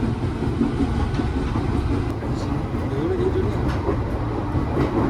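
KRL commuter train at Depok Baru station producing a steady loud rail rumble and rolling noise with faint clacks, with crowd voices murmuring on the platform underneath.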